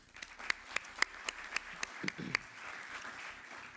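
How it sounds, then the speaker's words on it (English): Sparse applause at a policy conference keynote, a handful of distinct claps at a steady rhythm, fairly faint and close, tapering off after a few seconds. "I want to give you a round of applause"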